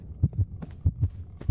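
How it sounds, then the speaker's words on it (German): Heartbeat effect in the horror video game Ghost Exile, a steady lub-dub thumping, three double beats in a row, loud and close with no talk over it. "Herzschlag?"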